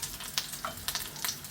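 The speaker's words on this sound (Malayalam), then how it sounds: "ഇവിടെ സവാള മൊരിയുന്നുണ്ട്, മൊരിയട്ടെ" Sliced onion frying in a pan for egg curry gives off a low, steady sizzle, punctuated by several short scraping stirs at close range.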